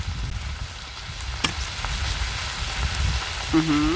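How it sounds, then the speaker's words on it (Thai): Hot oil sizzles steadily in a pan while Korean-style grilled pork cooks on a traditional stove, a constant close crackling hiss with a faint high whistle near the end. "เสียงน้ำมันกระทบกับกระทะ"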